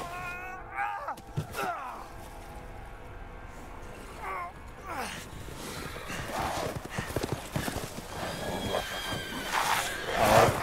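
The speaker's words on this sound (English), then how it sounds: "God, they're riding horses!" Horses galloping in Resident Evil Village, with clip-clopping hooves and a whinny over eerie game ambience, the hoofbeats growing louder and busier toward the end; a voice speaks briefly in the background.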